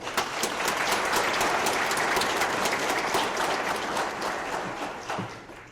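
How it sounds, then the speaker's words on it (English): An audience applauds event sponsors at an advocacy day gathering, a steady dense wash of clapping from a sizable crowd that holds throughout and fades slightly at the end. "Let's make sure and give them each an applause as we talk about who they are."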